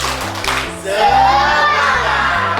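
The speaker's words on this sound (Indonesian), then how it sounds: "Oke, tepuk semangat." A school class claps out a rhythmic spirit clap, quick sharp hits in a patterned beat that sit over steady musical tones and a voice.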